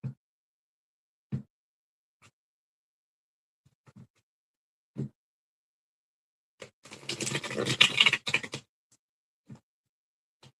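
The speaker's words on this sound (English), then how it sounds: "I'm just shuffling these cards because I'm doing things differently." Tarot cards are shuffled in a quick riffle of soft papery rustling lasting about two seconds, surrounded by scattered quiet taps and handling sounds.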